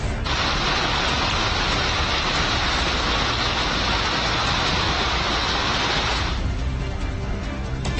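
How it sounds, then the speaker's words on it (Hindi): Heavy monsoon rain falls over Delhi as a loud, dense, continuous hiss that fills most of the span, then drops away abruptly near the end. "मानसून ने दस्तक दी, झमाझम बारिश हुई"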